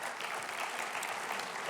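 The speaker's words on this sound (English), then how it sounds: "Let's give Peter a round of applause." Applause from the audience at a business hall of fame gala, a brief, even burst of clapping heard faintly from a distance.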